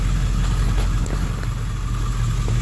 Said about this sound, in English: It's bad enough you can actually hear the turbo spool, which is pretty awesome.